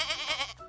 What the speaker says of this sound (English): Goat. Goat. It's a goat.